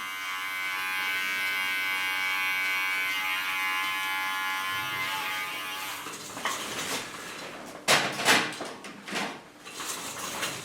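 A small electric hair clipper buzzes steadily near the neckline for about six seconds, then gives way to clattering handling noises and short scraping bursts at close range.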